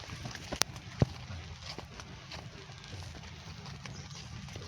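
A bullock's hooves clop along a farm path, two sharp, close knocks standing out early over a steady low rumble of movement and outdoor noise.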